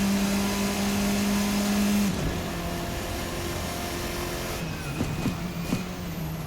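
A Formula RSS 4 race car in a racing simulator drones at high engine pitch, then the tone drops and wavers as it brakes into a corner, with a few short tire and bump noises.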